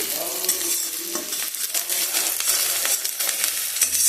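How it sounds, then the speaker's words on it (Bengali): Onions sizzle loudly in a hot wok, a steady crackling hiss broken by the occasional scrape of stirring. "পেঁয়াজটা ভেজে নিচ্ছি"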